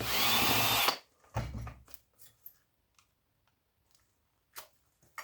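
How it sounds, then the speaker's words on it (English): A power drill bites into electrical scrap being taken apart, a loud burst of whirring followed by short drill pulses, then quiet clicks and taps of parts being handled. "Things move a lot faster when you have a drill."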